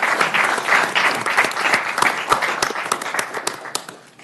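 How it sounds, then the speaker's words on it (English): Applause at a city council meeting in honor of a fallen Marine sergeant, a loud burst of close clapping that gradually thins and fades over a few seconds. "We can applaud"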